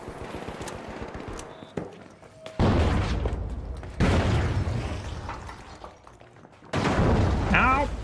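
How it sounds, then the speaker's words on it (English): Video game The Finals erupts with explosions and bursts of gunfire, heavy booms cutting in abruptly between rattling shots, with a player speaking over the chaos. "Everything's exploding."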